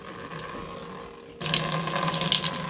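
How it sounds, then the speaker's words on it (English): Homebrewed IPA wort flows from a tap into a fermenter, a quiet trickle that suddenly swells into a louder, splashing gush partway through and keeps running. "So I'm going to start the run into the fermenter."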